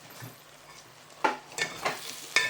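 Okra tossed into frying masala in a pan, a soft sizzle followed by several sharp spatula scrapes and clatters in quick succession, close by.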